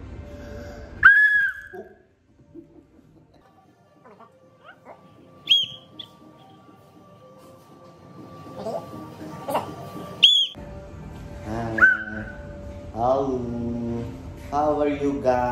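Several short, high whistles come in separate bursts, with quiet gaps and some soft background activity between them.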